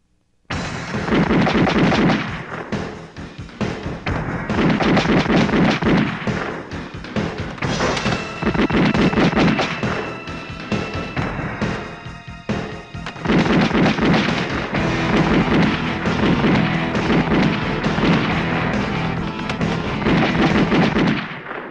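Gunfire in an action film shootout: dense, loud, nearly continuous shots and booms roll on for about twenty seconds, thickened by heavy low rumble with few pauses.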